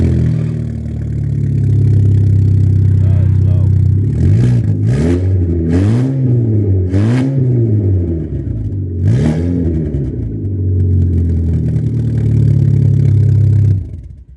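A Mk4 Volkswagen GTI engine with the whole exhaust system removed idles loud and raw, then revs up sharply several times in quick blips before settling back to a rumbling idle.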